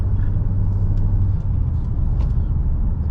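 Ford S-Max 2.5T Titanium people carrier with a five-cylinder turbo engine driving, a steady low engine and road rumble throughout, close and continuous with no talk.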